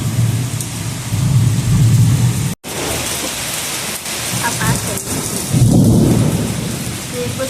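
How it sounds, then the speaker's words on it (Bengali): Heavy rain pours down in a thunderstorm while loud, deep thunder rumbles roll over it, near and powerful, with a brief drop-out partway through. "প্রচণ্ড জোরে জোরে মেঘ ডাকছে।"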